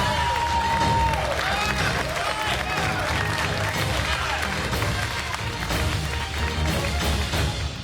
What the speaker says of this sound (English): here to cheer you on are the home cooks that you conquered to get here